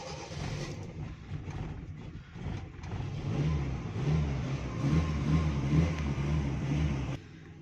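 A car converted from petrol to CNG runs on gas with a misfiring problem. Its engine rumbles steadily up close, swelling slightly as if lightly revved, then drops off near the end.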